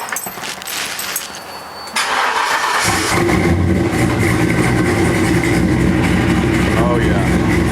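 A Chevrolet squarebody truck with a 6.0 V8 and 4L80 transmission: a starter cranks briefly, then the engine catches and settles into a loud, rumbling idle with some revving, close to the listener.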